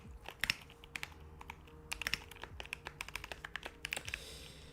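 Quiet, close typing on a computer keyboard during chess engine programming, with irregular bursts of crisp key clicks and a few louder taps, no voices present.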